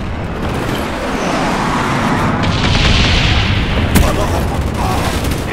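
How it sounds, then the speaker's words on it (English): Bomb strike explosions in Call of Duty Black Ops on the Hanoi map rumble as a loud, sustained low roar with a sharp crack near the end, along with distant gunfire. "Bomb strike on the way."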